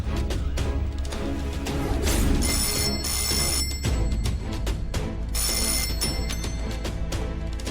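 A landline telephone rings in a Tamil TV drama scene, its electronic ring sounding in two clear bursts separated by a short pause, loud and close over a steady low background tone.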